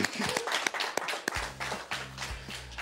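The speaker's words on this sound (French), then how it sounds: "Je pense qu'il mérite une bonne main d'applaudissement maintenant" Scattered clapping from an audience at a hypnosis show, sparse and fairly quiet, with individual hand claps standing out and a low hum underneath rather than a full roar of applause.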